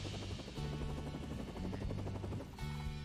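Helicopter in the video game No Straight Roads, a loud steady rotor drone with pulsing chop mixed into the game's soundtrack.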